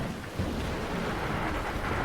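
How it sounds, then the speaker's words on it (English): Heavy rain pelts asphalt during a thunderstorm, a loud, dense, continuous roar with a low rumble underneath, steady throughout. "turbulent rain began to pelt the asphalt"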